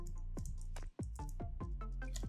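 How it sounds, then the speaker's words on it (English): Someone types on a computer keyboard while writing code, soft close taps in irregular bursts over a steady low hum, with a short gap partway through and no talking. "now I'm done typing"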